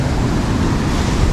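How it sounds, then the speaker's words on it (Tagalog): Strong sea waves at the beach of a resort in Dapitan City, a broad roaring wash of surf, loud and continuous across the brief moment, mixed with wind noise. "And medyo malakas yung alon kasi iba yung panahon today."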